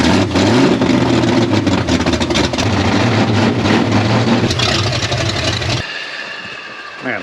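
A Jeep Wagoneer engine fitted with open headers and no exhaust revs loud and close, a harsh, sustained roar with rising and falling pitch that drops to a quieter idle near the end.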